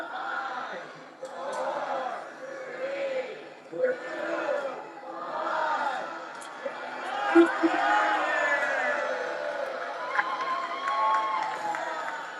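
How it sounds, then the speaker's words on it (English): Crowd gathered outside the Kennedy Center at midnight chants and cheers in rhythmic swells, a mass of voices with scattered shouts and chatter over a steady background. "there's a crowd that chants for workers to take it down after the clock hits midnight"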